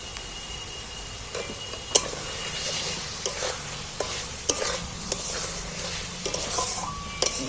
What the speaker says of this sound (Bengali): এইবার আমি ডিমগুলো একটা একটা করে তুলে দিচ্ছি ওর মধ্যে